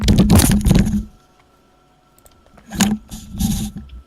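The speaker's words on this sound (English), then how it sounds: "I went to pick up my headset and I dropped my headset." A gaming headset drops and clatters against a desk or floor near the microphone, giving a loud burst of knocks and rattles, then a short quiet gap and a few more scraping handling bumps, with no talking.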